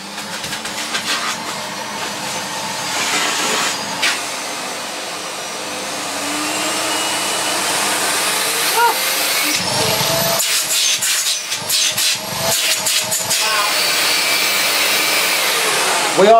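A Miele S5 vacuum cleaner runs steadily with its hose attached, a loud continuous whooshing drone of suction that shifts in pitch as the hose opening is blocked and freed, with brief voices underneath.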